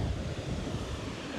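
Wind at a Maldives beach resort, a steady low roar of gusts buffeting the microphone with a broad rushing wash, close and continuous with no voices.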